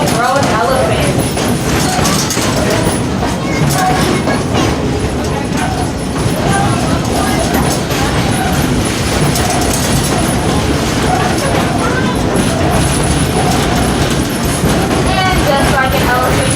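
Stone Mountain Scenic Railroad train rolling slowly at about 15 mph, a steady loud rumble and clatter of heavy wheels on track filling the whole stretch, with a voice talking over it.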